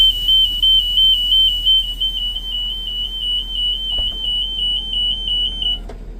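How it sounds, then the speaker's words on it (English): A 2024 Freightliner S2C Grech GM40 bus sounds its service door closing alarm, a steady rapid train of high, clear beeps that runs for about six seconds over a low engine rumble, with a couple of clunks near the end. "there is an alarm that will sound as the service door is closing if the parking brake"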